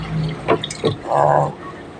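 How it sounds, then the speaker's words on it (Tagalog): A short, close splash and trickle of a little water poured into a cooking pot, with a few knocks before it and no talking over it. "lagyan ng kunting tubig"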